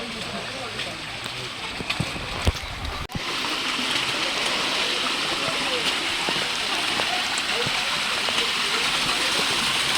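Rainwater rushes steadily over rocks on Lohagad hill on a wet monsoon day, a broad close roar; a person speaks over it early on before the flow dominates.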